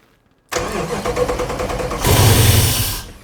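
A 6.4 Hemi V8 swapped into a 1970 Dodge Dart cranks and fires, then settles into a loud, rough, lumpy idle that rises into a deeper rumble, close by with no talk.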